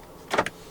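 Central locking on a 2024 Honda City 1.5 V actuating: a quick cluster of two or three close mechanical clunks and a short motor whir inside the quiet cabin, lasting well under half a second.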